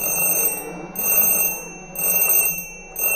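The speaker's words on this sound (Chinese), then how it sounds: "闹钟响了，原来只是一场梦而已。" An alarm clock rings in repeated bursts, each about a second long with short gaps between, bright and metallic, loud and close with no other sound.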